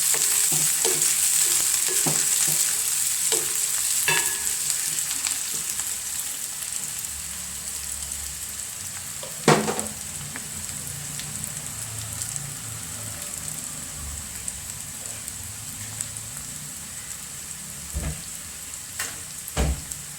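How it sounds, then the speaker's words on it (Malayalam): Sliced onions and curry leaves fry in hot coconut oil with a steady, close hiss, broken by occasional clacks of a spoon stirring against the pan; no one speaks. "സവോള ഇട്ട് കുറച്ച് കറിവേപ്പിലയും കൂടി ഇട്ട് കൊടുക്കാം."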